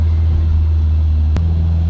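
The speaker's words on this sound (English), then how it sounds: "Kind of give you an idea of what the drone's like inside the car." A supercharged 2.4-litre 4G69 engine in a Mitsubishi Eclipse GS drones steadily from inside the cabin with the windows up, a low, loud constant rumble under acceleration, briefly shifting pitch near the end after a sharp click.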